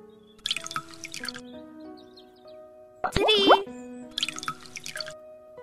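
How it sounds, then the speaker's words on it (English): Water is poured from plastic bottles into a bowl in a short splashing, gurgling burst with a rising tone, while a voice counts nearby. "let us see how many of these bottles fill this bowl."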